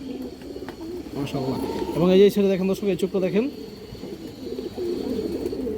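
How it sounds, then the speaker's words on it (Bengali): A restless female Gorra pigeon coos in low rolling calls while someone talks over it close by, the cooing swelling briefly in the middle before fading under his voice. "খুবই চঞ্চল একটা মাদি কবুতর"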